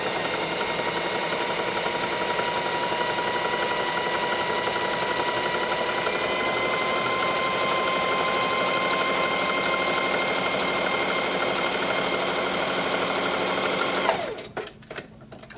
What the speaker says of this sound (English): it's going to sew, I think it goes forward twice and back once for every stitch